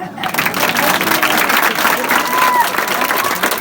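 A village crowd at an outdoor political gathering in Laddi, Sangrur, claps steadily and densely throughout, a loud sustained wash of applause with no talk over it.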